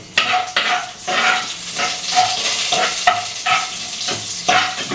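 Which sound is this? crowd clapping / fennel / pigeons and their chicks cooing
fennel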